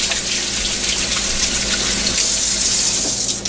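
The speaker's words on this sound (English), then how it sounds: "Wash your hands." Tap water runs steadily into a sink as hands are washed after rubbing dry brine onto a turkey, a continuous close splashing hiss with no talk.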